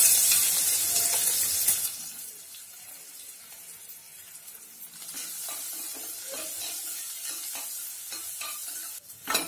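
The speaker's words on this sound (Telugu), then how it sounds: "ఆవాలు జీలకర్ర చిట్లగానే కట్ చేసి పెట్టుకుని ఉల్లిపాయలు వేసుకోవాలి, జీడిపప్పులు కూడా" Onions and cashews sizzle in hot oil with mustard seeds, cumin and urad dal in a pressure cooker for foxtail millet khichdi, with steady close frying hiss and stirring scrapes throughout.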